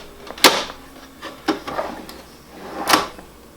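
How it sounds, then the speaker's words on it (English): Drawer box sliding onto Hettich Quadro 4D drawer slides with an overlay drawer front: a few sharp sliding thuds and clacks spaced over a few seconds, close and fairly loud. "put your drawer box in with the overlay drawer front"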